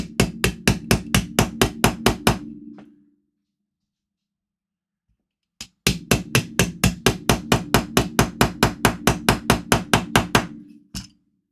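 Heavy hammer pounding a stuck part during a power supply repair, a rapid burst of about a dozen loud ringing blows, a pause of silence, then a longer fast run of close, hard strikes.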